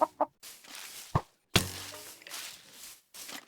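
Minecraft chickens clucking in-game, a few short separate clucks and thunks with a brief burst of game sound, quiet and isolated.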